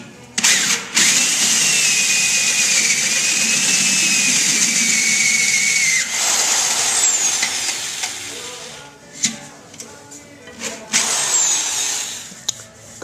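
A power drill with a hole-cutting bit bores a bung hole in metal, a loud whining grind that holds steady for several seconds, then stops and restarts in shorter bursts with clatter between.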